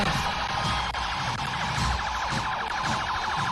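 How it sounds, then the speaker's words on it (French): Ambulance siren wailing loud and continuous in a military parade in Guinea Conakry, rapid repeating warble with crowd and traffic noise underneath. "suivi de l'ambulance"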